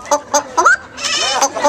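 A parrot performing in a bird show imitates a chicken: a run of short, sharp clucking calls and a rising warble. It sounds close and loud, with no talk over it.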